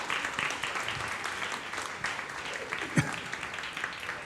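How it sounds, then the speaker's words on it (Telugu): A church congregation at a Sunday service gives steady applause during a gift presentation, a soft, continuous patter with a few sharper claps. "గట్టిగా చప్పట్లు కొడదామా?"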